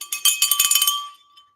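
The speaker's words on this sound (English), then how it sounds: "When you guys hear this bell," A small bell rings rapidly, about a dozen bright metallic strikes in quick succession, then a clear ringing tone fades out.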